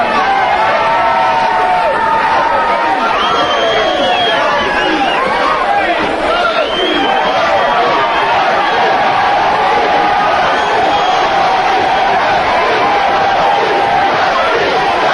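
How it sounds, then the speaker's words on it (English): Loud, dense wrestling arena crowd at a Professional Wrestling Federation event at the Florida State Fairgrounds, cheering and shouting continuously throughout, a roaring wall of voices after a new heavyweight champion is crowned. "You can hear the crowd"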